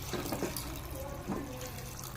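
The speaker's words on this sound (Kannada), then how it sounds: "ಈ ಥರ ಒಂದು ಮುಷ್ಟಿ ಕಡಲೆಬೇಳೆ ಇದು ಹಾಕ್ಬಿಟ್ಟು ಮುಳುಗಷ್ಟು ನೀರು ಹಾಕ್ಬಿಡೋಣ" Water runs over a handful of chana dal, a soft, steady trickling and splashing, fairly quiet and continuous, with no talk.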